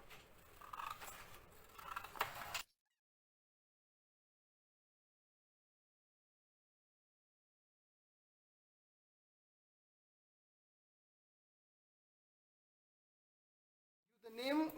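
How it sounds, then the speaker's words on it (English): Scissors cut a paper parallelogram, a brief close run of snipping and rustling at the start, followed by long silence and a faint return of sound at the end. "Okay, so using scissor cut that parallelogram."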